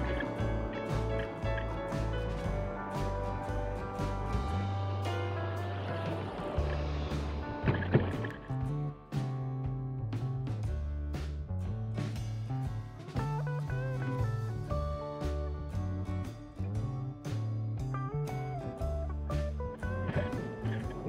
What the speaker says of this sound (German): diese komischen Geräusche von meinem Vorderrad